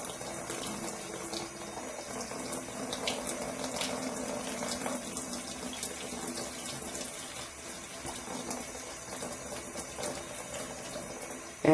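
Tap water runs steadily over a makeup brush being rinsed after a brush and sponge shampoo, a continuous splashing stream at close range with no voices.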